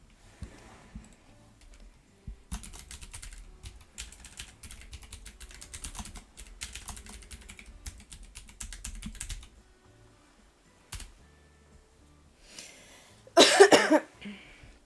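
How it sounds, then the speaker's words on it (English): Fingers type in bursts on a computer keyboard, a close, quiet clatter of key taps with pauses, then a loud cough near the end. "So I'm gonna type it."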